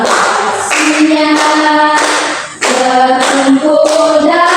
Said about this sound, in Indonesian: Kita tepuk tangannya.